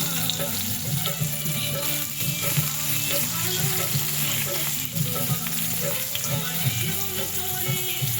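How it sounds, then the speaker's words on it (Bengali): Soya chunks fry in hot oil seasoned with turmeric and salt, giving a steady, close, dense sizzle with stirring scrapes throughout and no voices. "তেলের মধ্যে এবার সয়াবিনগুলো দিয়ে একটু নুন দিয়ে ভেজে নেব"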